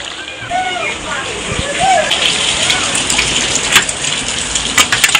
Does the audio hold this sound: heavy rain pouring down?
yes